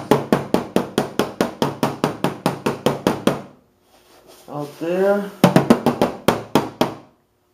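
Hammer blows against a body spoon on a Subaru's body panel ring out in a fast, steady series of about a dozen metallic strikes, pause for a short spoken phrase, then resume with several more close, loud hits.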